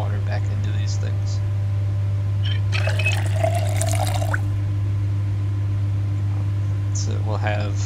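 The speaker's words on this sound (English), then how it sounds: "So let's refill this water dispenser." Water pours in a short burst as a water dispenser is refilled in a video game, a brief splashing fill over a steady low hum.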